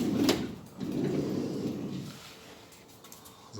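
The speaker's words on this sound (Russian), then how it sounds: "Открываю дверь в салон." A car door on a small electric car is opened from the cabin side, giving two close, soft mechanical clunks and a brief latch release, with a quiet, fading rustle afterward and no talking.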